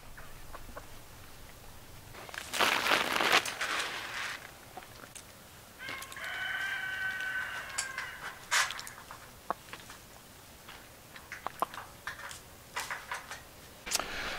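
Chickens (hens) cluck and murmur intermittently at close range, with scattered scratching and rustling noises in a bed near a greenhouse and a brief louder burst near the start.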